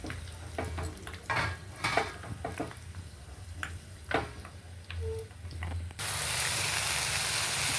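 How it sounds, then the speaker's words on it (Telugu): Mustard seeds crackle and pop in hot tempering oil in a pan, scattered sharp ticks and spits at close range, giving way to a steady sizzling hiss at the end. "ఆవాలు చెట్టుపట్లాడుతున్నాయి."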